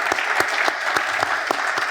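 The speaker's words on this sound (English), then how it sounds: "let's give him a round of applause" An audience at a business club event claps steadily throughout, a dense even patter of many hands close by with no talking over it.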